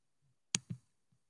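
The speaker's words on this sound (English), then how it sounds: "Let me see if I could just quickly type that in." Two quick, quiet keystroke clicks on a computer keyboard, a brief pause between them, with near silence around.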